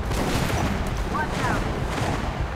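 Gunfire from the video game Metro Last Light, a steady dense roar of shots blended into loud broadband noise with no distinct separate bursts.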